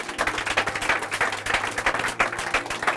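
A church congregation claps and cheers for Jesus, a steady, dense wash of applause with rhythmic hand claps and crowd noise filling the room throughout.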